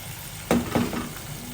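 Tomatoes fry in a pan of oil on a home stove while a potato curry is cooked, a steady close sizzle with a couple of louder stir bursts partway through.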